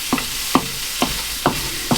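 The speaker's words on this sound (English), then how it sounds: "I hope you can hear me over the noise of the frying." Chicken pieces frying in a pan for Thai green curry, a constant sizzle broken by five evenly spaced scraping stirs of the utensil against the pan, close and fairly loud.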